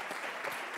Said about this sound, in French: On applaudit sa sublime épouse.